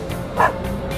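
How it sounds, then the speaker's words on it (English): A single short dog bark or yip rings out clearly once in a quiet setting, with no talking over it. "It's a dog."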